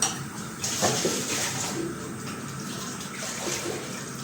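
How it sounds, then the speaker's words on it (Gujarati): Water poured from a vessel into a large pot of dal being cooked for tiffin orders, giving a steady, moderately loud splashing and gurgling pour that lasts a few seconds with faint clinks of metal. "તો ચાલો થોડુંક એટલું પાણી નાખશું આપણે એમાં"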